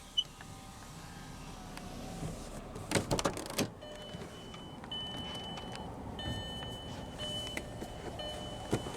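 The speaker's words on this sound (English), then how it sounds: "roll down the driver's window" The automatic driver's window of a 2003 Volkswagen EuroVan Winnebago camper rolls down, a steady electric motor whine from inside the van after a brief clunk of handling, quiet and close with no talking.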